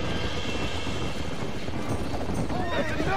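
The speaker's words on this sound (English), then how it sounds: "He's gonna get ourselves a wild horse." A wild horse in the video game Red Dead Redemption, with dense clip-clopping hooves and whinnying over a steady rumble close by, a voice breaking in near the end.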